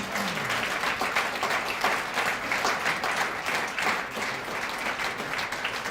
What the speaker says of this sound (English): Go ahead, keep clapping.